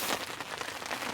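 Rain patters steadily on a tent, a dense, soft crackle of drops heard close and continuous for about a second.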